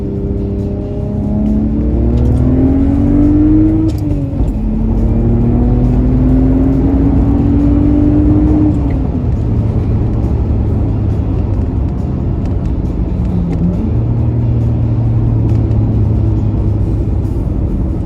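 A BMW 535i E60 engine pulls hard through the gears from inside the car, a loud droning rise in pitch that drops at each shift and climbs again, continuous and close.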